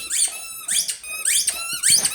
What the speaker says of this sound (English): The squeaky ball drives some people nutty on my channel.